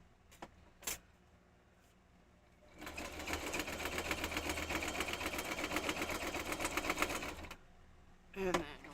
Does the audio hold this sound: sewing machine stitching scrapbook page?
yes